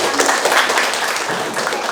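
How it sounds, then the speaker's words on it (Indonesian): Students in a classroom applaud together, a dense, steady patter of many hands clapping close by for a couple of seconds. "Tepuk tangan untuk"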